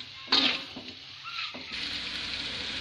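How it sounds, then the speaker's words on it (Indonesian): Noodles are tossed into a sautéed spice paste in a hot pan: a sharp clatter of stirring at the start, then a steady, close sizzle of frying that grows fuller and continues on its own. "Kita masukkan ke dalam bumbu yang sudah kita tumis ini."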